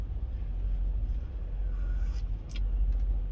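Truck engine rumbling and rolling out of a Blue Beacon truck wash at sunrise in Cheyenne, a steady low drone with a brief hiss of an air brake, heard from a parked cab.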